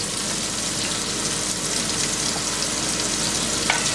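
Eight scallops searing over high heat in a hot pan, spaced apart: a dense, continuous close sizzle and crackle of frying, steady and loud throughout, with a faint tick near the end and no talking.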